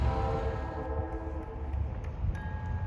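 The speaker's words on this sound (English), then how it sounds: "Here comes the GP9 ULED train at 11:50, heading back to New Hope." A GP9 locomotive hauling a New Hope & Ivyland Railroad Santa Claus Special passes close by, its horn sounding as sustained tones over a continuous rumbling roll of the train.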